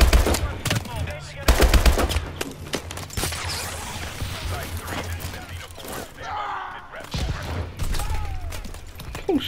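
Rapid bursts of automatic gunfire in Call of Duty: Advanced Warfare, loud and close, with dense rattling volleys broken by short pauses and some mechanical clatter.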